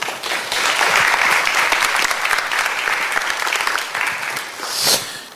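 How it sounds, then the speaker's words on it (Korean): A seminar audience breaks into loud, dense applause welcoming a university professor, steady and close, fading slightly near the end before a brief swell. "한번 큰 박수로 환영해 주십시오"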